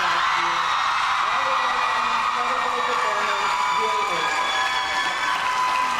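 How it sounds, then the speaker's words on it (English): Loud, continuous applause and cheering from a large crowd at a Comic Con panel, with whoops and shouts rising over the clapping throughout. "I think we all just need to give a collective round of applause to Dylan O'Brien for everything he did at th"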